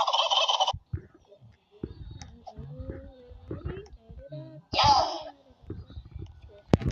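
Chickens cluck and squawk nearby in two loud, raspy bursts at the start and midway, with a person's voice and other small sounds in between.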